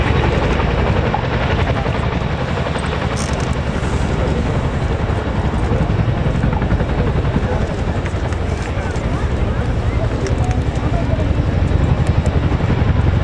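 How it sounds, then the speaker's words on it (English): A Chinook helicopter at the Royal Air Force Cosford airshow gives a loud, steady, broadband rotor roar with a fast rhythmic chop that lasts throughout, while an announcer talks over it. "Today the Chinook simulating conducting an essential weapons drop-off close to the front line under the watchful eye of Sergeant Lawson."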